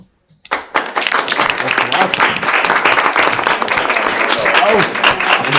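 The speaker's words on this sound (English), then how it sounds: "We ask you for a round of applause." Audience applause after a debate, broad sustained clapping that starts abruptly after a brief quiet moment and holds steady and loud to the end, with voices mixed in.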